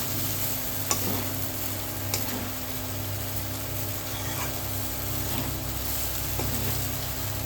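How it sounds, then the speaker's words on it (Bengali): Egg chow mein frying in a pan while being stirred well, a continuous close hiss and sizzle with a few soft utensil taps and scrapes spaced through it. "ভালো করে নাড়াচাড়া করে নেবো"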